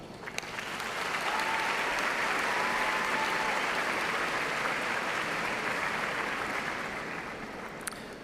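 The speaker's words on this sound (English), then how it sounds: "please join me in showing your appreciation for these very important people in your lives with a generous round of applause" Applause from a large audience at a university spring commencement ceremony swells up, holds as a dense steady roar of clapping, then gradually tapers toward the end.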